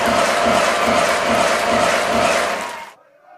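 Audience at a gospel rap challenge closing event cheering and applauding for the group Living Sacrifice, a loud dense crowd roar with shouts that fades and cuts off near the end.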